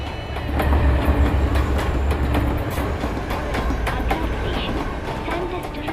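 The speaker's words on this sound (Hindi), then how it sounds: "छत्रपति शिवाजी टर्मिनस जाने वाली धीमी लोकल प्लेटफॉर्म नंबर 2 से रवाना होने के लिए तैयार है।" A slow local train bound for Chhatrapati Shivaji Terminus pulls out from platform 2, a loud, close rumble with rhythmic wheel clatter that stays steady throughout, with faint voices in the background.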